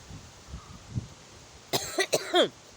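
A person coughs close by, with three or four sharp coughs in quick succession after a quiet stretch of faint room noise.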